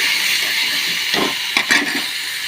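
Tomatoes sautéing in hot oil after curry leaves have crackled, giving a steady, close sizzling hiss with a few brief louder spits and pops toward the end.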